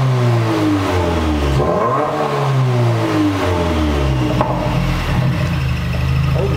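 A 2016 Subaru WRX with its resonator deleted and the exhaust open revs loudly and close up, climbing in pitch, dropping back, then climbing again in repeated pulls with no talking.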